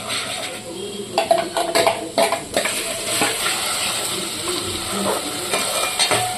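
Ground Kolhapuri masala hits hot oil for Kolhapuri chicken, giving a steady close sizzle and frying hiss with stirring scrapes and occasional clinks of a utensil against the pan.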